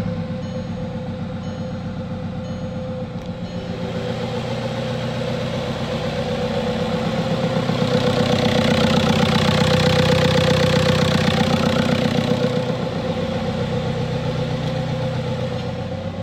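A 2006 Volkswagen TDI diesel engine with a faulty engine speed sensor idles steadily with a low, rhythmic rumble and clatter, swelling slightly louder in the middle before settling back.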